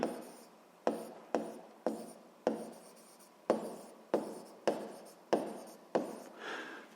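A pen writing notes by hand on paper, about a dozen crisp, evenly spaced scratchy strokes up close, each starting sharply and fading, with no voices.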